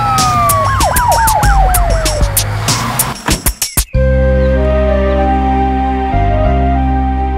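A loud ambulance siren wails, rising and falling repeatedly, then breaks off after a few sharp bursts into a steady electronic tone.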